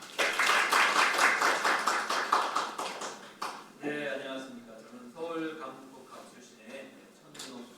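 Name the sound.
audience applause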